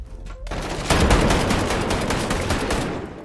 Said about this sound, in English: Stupid shotgun, dude.